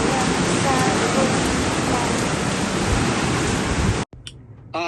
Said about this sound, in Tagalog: Here's na ang malakas na ulan.